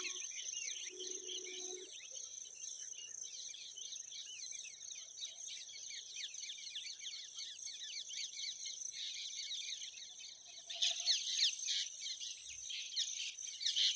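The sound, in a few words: birds calling in nature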